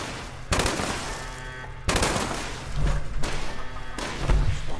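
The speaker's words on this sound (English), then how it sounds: "Who's shooting now?" Gunfire in Fallout 76, loud bursts of rapid shots with heavy thuds, several separate volleys close by with brief gaps between them.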